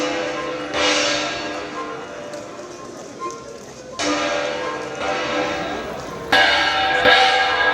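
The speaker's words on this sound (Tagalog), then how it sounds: "isinagawa ang traditional beating of the Unity Gong." A traditional Cordillera Unity Gong is struck at a public ceremony, producing loud, ringing metallic strikes spaced a few seconds apart with long shimmering decays over background crowd noise.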